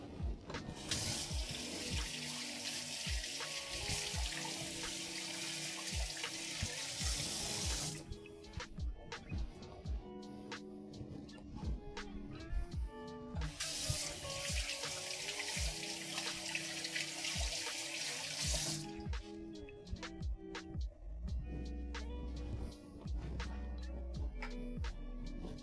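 A kitchen tap runs into a sink while food is rinsed under it, a steady hissing stream that stops and restarts in two long bursts, with clinks and handling sounds in the gaps, no voices.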